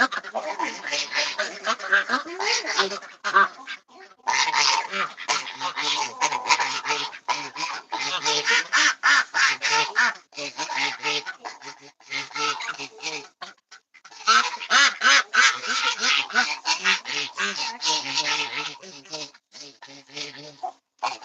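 A goose honks and cackles repeatedly in a dark homestead shelter, a long run of harsh, close calls with brief pauses between bursts.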